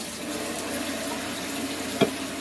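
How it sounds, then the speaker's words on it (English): Cold water running steadily from a kitchen tap, a continuous hiss with a brief louder splash near the end, heard alone with no talk. "we're going to get some cold water going"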